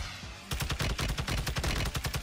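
Rapid automatic gunfire in Warzone on Ashika Island, a dense burst of evenly spaced loud shots lasting about two seconds, heard alone with no talking.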